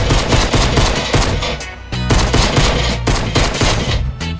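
Loud, rapid gunfire in the Fortnite video game, with dense automatic bursts broken by brief pauses, close and dominant throughout.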